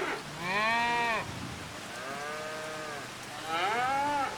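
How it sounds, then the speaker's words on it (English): Beef cattle on an Iowa farm, with two drawn-out moos from a cow and a lower, quieter call between them, all heard close and outdoors. "I'm doing beef cattle, I ain't doing dairy."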